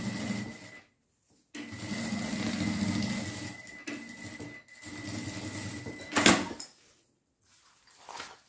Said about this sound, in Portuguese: Vou costurar aqui nessa borda.